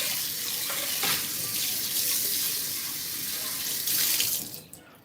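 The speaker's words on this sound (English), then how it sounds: "I'm gonna get this pot washed first if you can hear me" A pot is washed under a running kitchen tap, with a steady broadband water stream flowing close and continuous before tapering off at the end.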